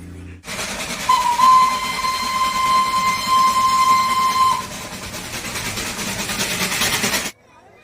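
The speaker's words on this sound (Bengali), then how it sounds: "দূরে টয় ট্রেন যাচ্ছে একটু দেখাও" Darjeeling toy train passing at a distance, a long steady hiss and rumble with a sustained whistle-like tone partway through, under faint ambient noise.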